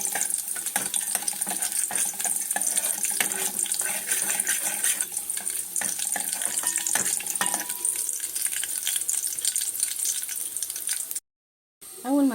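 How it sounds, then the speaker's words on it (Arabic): Garlic cloves frying in a small pot on the stove, a steady loud sizzle and crackle running continuously with clinks, then a brief silence and a short return. "حله كده صغيره على النار وفصين توم حلوين كده وهنحمرهم كده"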